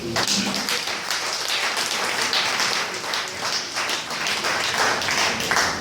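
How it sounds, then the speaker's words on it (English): Members of an audience at a ministry press briefing clap for the press, a dense, steady wash of applause from many hands that carries on throughout without a pause. "I will please indulge all the members here to please clap for them."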